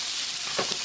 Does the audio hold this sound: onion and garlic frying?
yes